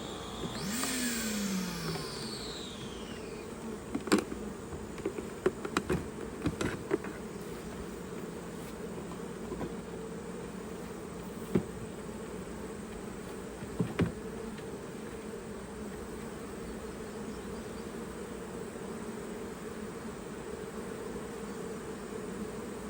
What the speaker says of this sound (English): See a lot of bees spaced out.